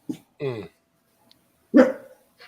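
A dog barks nearby in a few sharp, separate yaps with quiet between them, the last bark the loudest, while a person's voice briefly sounds in the room.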